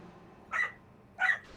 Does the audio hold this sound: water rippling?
no